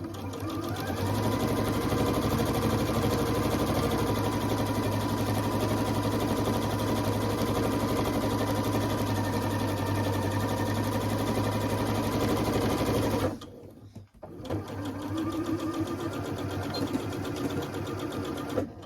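A sewing machine runs fast and continuously, stitching straight lines on quilt strips for a baby blanket, loud and close, then stops abruptly and restarts after a brief pause.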